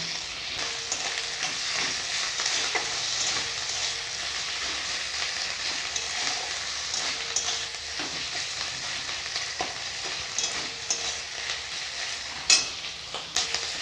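Chopped onion and ginger fry in oil in a pan, a steady bright sizzle with occasional stirring scrapes, close and continuous with no talking.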